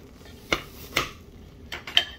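A metal spatula cuts and scoops crock pot pizza, giving four distinct scraping clinks against the pot, close and moderately loud, with quiet gaps between.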